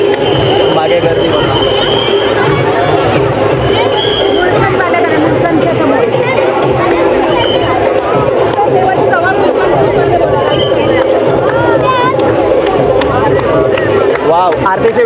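A dense crowd fills a Pune Ganpati pandal during aarti, with a continuous loud babble of many voices, steady rhythmic drumming and clapping, and whistles and singing rising through the din for the whole stretch.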